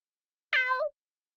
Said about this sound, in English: Well, well. A cat.